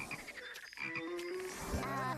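Frogs croak in an animated cartoon scene, a few close, throaty croaks and warbling calls over a busy background of other sounds, with no voices.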